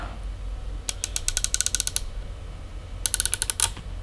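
A wrench turns the scope adjustment on a Bravo Elite air rifle, giving two bursts of rapid, close mechanical ratcheting clicks separated by a short pause.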